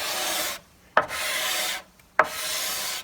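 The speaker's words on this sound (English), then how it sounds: "it's kind of nice to use the scraper" A hand scraper draws across a wooden mantel beam in long rasping strokes, three steady passes separated by short pauses, close and clear with no talking.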